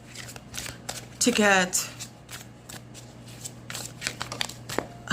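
Tarot cards get shuffled in a brief, crisp riffling burst about a second in, with soft card handling sounds around it. A person talks over it throughout.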